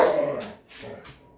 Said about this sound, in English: And my dog is barking at my cat.